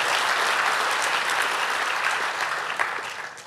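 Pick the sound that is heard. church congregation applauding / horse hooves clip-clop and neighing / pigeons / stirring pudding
church congregation applauding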